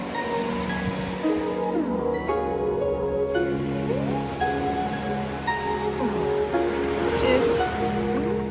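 Ocean waves wash steadily onto a Maldives beach, a continuous broad surf close by, with tonal sounds and faint voices layered over it.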